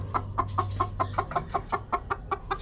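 Hen clucking after laying an egg, a Rhode Island Red cross, giving a rapid regular series of about a dozen sharp clucks, close and clear, over a faint low hum.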